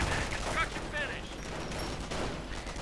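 Machine gun fire in a World War II real-time strategy match, German MGs firing rattling bursts amid other battle noise, moderately loud and continuous over the game soundscape.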